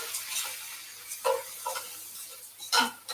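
Mushrooms frying in a pan give a soft, steady sizzle with a few louder bursts of crackling and stirring, fairly quiet and without talk.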